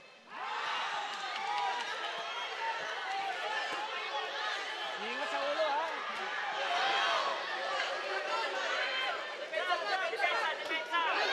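A boxing crowd at a Manny Pacquiao Blow by Blow fight in the Philippines fills the arena with a steady roar and chatter, with surges of cheering under a commentator talking throughout.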